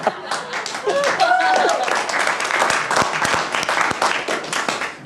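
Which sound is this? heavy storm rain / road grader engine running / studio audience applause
studio audience applause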